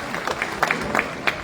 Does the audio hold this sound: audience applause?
yes